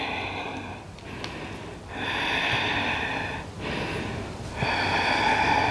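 Slow, deep breathing during a power yoga session: audible inhales and exhales alternating in long, even strokes, close and breathy, with no talking over them.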